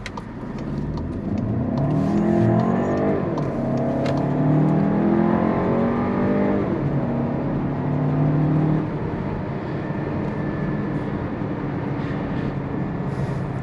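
A Volkswagen Tiguan SEL R-Line engine revs up and accelerates steadily in sport mode, a continuous rising drone with road noise throughout, no talking.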